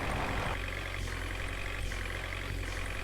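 An 18-tyre toy monster truck runs at ultra power speed, a steady loud whirring motor drone with faint rhythmic surges roughly every three-quarters of a second, continuous and close, with no talking.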